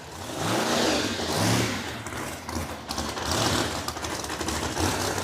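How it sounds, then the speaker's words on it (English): A drag car's loud engine revs and rattles roughly during a burnout at Beech Bend Raceway Park, with sputtering pops and bangs over a continuous harsh roar. "car popping and banging"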